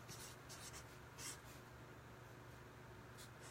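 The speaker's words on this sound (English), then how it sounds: "So I get my paper and my marker, illustrate this." A marker scratches across paper in short strokes, quiet and close, with a few brief bursts of squeaky writing over a steady low background hum.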